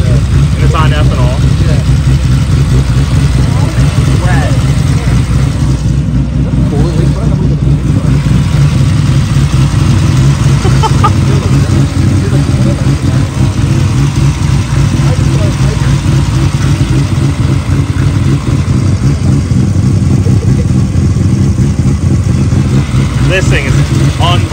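A Nissan Skyline R33 GT-R tuned to 1,100 hp on ethanol runs loud and steady with a constant low engine drone, close by, while people talk over it throughout.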